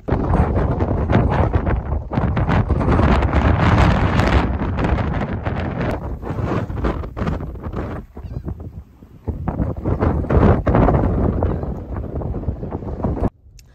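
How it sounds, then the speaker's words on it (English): Strong coastal wind on Chincoteague Island buffets the microphone in a loud, continuous roar, with gusts rising and falling throughout and a brief lull near the middle. "It's still quite windy"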